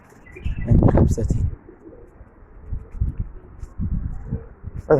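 Pigeons coo close by in a bird enclosure, giving a few throaty bursts of cooing with soft rustling and low background sounds between them.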